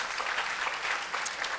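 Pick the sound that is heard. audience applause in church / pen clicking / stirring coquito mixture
audience applause in church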